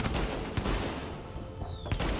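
Gunfire in the video game The Division: rapid bursts of shots crackle over a dense, noisy game soundscape, with a few sharper cracks standing out and thin electronic sweeps near the end.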